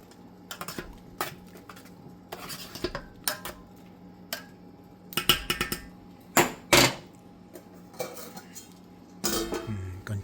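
A spoon scrapes and clinks against a pot while paramannam rice pudding is stirred, irregular metallic taps and short scraping strokes at close range, with quiet gaps between them.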